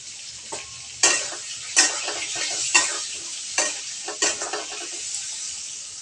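Pieces of ash gourd sizzle steadily in hot oil with a little turmeric, and a spatula scrapes and stirs through them in several sharp, regular strokes.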